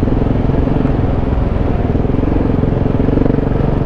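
A KTM 690 Enduro motorcycle engine drones loud and steady while riding in third gear, a continuous close rumble with wind and no talk.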